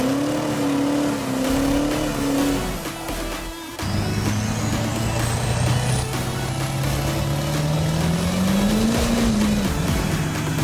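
D-Max monster truck engine revving hard during a tire burnout, a loud continuous roar with pitch swells and a brief dip midway, alone without talk.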